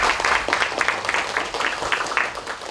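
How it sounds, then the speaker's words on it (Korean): Applause of encouragement at a party leadership meeting, a moderate steady patter of many hands filling the room throughout, with some faint murmuring mixed in. "격려의 박수 드립니다."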